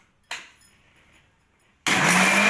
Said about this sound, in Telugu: బరకగా మిక్సీ పట్టుకోవాలి దీన్ని మొత్తాన్ని